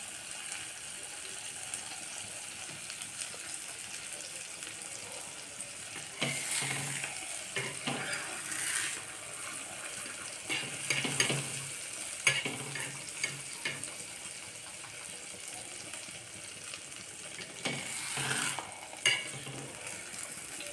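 Aloo matar stuffed paratha frying in butter on a hot tawa over a low flame, giving a steady soft sizzle with brief louder crackling bursts and faint scraping, no voices.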